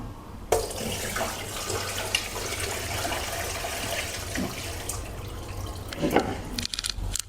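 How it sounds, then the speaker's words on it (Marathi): Soaking water is poured off rice that has soaked for a day, making a steady close splashing, trickling pour that runs for several seconds and then tapers into a few drips, with no talk. "आता हे पाणी आपण काढून घ्यायचं त्याच्यातनं."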